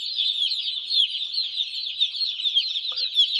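Chicks or young chickens in a brooder, a dense, continuous chorus of high peeping and chirping, close and fairly loud, with one lower short call near the end.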